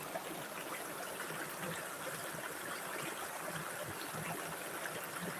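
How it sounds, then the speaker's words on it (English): River water flows in a steady, even rush that stays at the same level throughout, with no voices over it. "I'm in a different spot today on the river."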